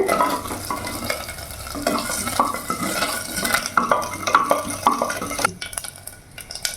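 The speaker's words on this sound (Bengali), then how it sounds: "এবার আমি রিফাইন অয়েল দিয়ে দেবো। ফোড়নে দিয়ে দিলাম গোটা জিরে, তেজপাতা," Whole cumin and bay leaves fry in hot refined oil in a pan, a soft sizzle under repeated clinks and scrapes of a spoon stirring against the metal, fading near the end.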